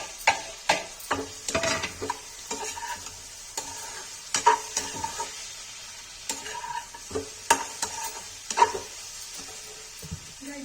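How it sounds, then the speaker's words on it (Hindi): Okra frying in a pan with red chilli for crispy Kashmiri bhindi: an underlying sizzle broken by frequent sharp spatula scrapes and knocks in an irregular stirring rhythm, close up with no talk. "अब इसे भिंडी डाल देंगे।"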